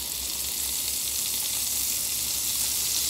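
Butter sizzles in bacon fat in a pan on medium heat, making an even, continuous hiss that stays close and moderately loud.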